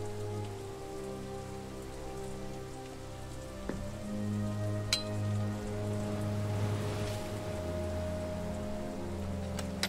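Rain in the video game Satinavs Ketten: a continuous soft patter of rain over a low sustained musical drone, with a few faint clicks, gentle and steady with no speech.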